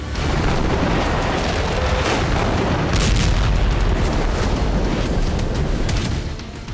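Shelling in the Gaza war: a continuous rumbling barrage of heavy blasts, loud and sustained with a swell in the middle, no voices over it.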